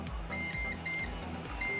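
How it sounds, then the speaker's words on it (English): An NZXT Sentry 2 fan controller beeps in a quick series of short, close electronic tones, repeating in groups over faint background hum. "you can even turn the beeping off just by pressing that"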